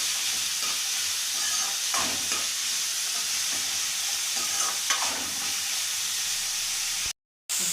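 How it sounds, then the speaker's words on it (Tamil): Bitter gourd sautés in oil in a pan, a constant close hiss of frying broken by several scraping stirs, then it cuts abruptly to silence just before the end. "இந்த எண்ணெயிலே நல்லா வதக்கிக்கலாம்"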